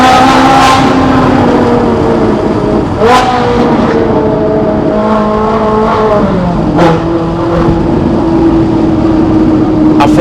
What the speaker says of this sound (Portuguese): então você ouve aquela explosão daquele ronco